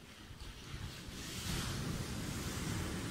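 Surf washes onto a beach under a hot sun, a broad rushing swell that builds partway through and stays loud and steady, mixed with wind noise on the microphone.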